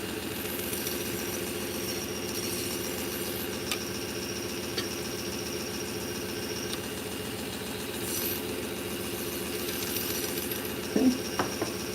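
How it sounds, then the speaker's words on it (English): A steak knife edge touches the belt of a sharpener running at 1400 RPM; a steady mechanical motor hum and belt whir continue unbroken, with a brief louder contact near the end. "now I'm just going to gently kiss the edge of the knife to the belt"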